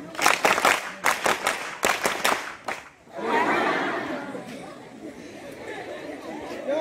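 A group of students and scout leaders claps quick three-beat rounds for a few seconds. The clapping then gives way to loose crowd chatter and light laughter that carries on to the end.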